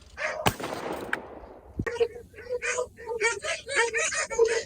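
A shotgun fires once during a bird hunt in Southwest Virginia: one sharp, loud report early on with a decaying tail, followed by a second fainter thump, then people talking.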